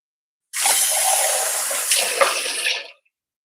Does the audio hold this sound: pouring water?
yes